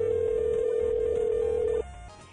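A telephone ringtone plays as one steady electronic tone for almost two seconds, then cuts off and leaves a quiet hum.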